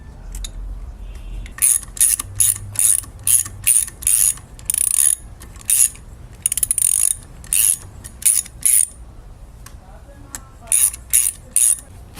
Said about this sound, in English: so let's put the bolt in.